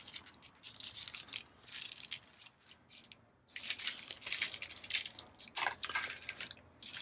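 Silicone being stirred with cornstarch in a container, a wet, sticky scraping and squishing that comes in bursts with short pauses, close up and with no talking.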